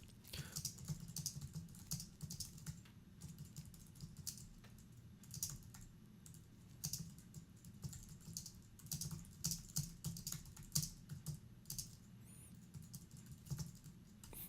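Steady typing on a computer keyboard while composing a Mailchimp email, quick irregular key clicks close by, a few louder taps among them, over a low background hum with no voices.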